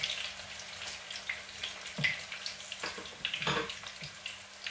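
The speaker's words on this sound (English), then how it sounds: "I'll fry it for about a minute on each side" Green plantain slices fry in a pan with a soft, steady sizzle and scattered crackles and pops, fairly faint and close, with no talking.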